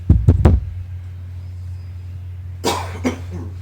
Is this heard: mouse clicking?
no